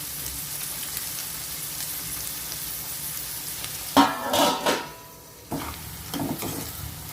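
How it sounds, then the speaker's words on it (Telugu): Chopped onions and green chillies frying in oil in a covered pot, a steady low sizzle with louder stirring bursts midway, then a brief lull before the sizzle resumes. "ఫ్రై చేసుకుందాం. మూత పెట్టేసుకుందాం, తొందరగా ఫ్రై అయిపోతాయి."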